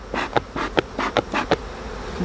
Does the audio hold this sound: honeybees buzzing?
yes